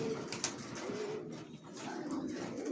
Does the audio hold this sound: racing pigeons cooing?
yes